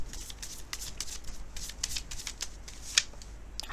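Tarot cards being shuffled by hand up close, a rapid run of papery riffles and flicks with a few sharper snaps, no voices.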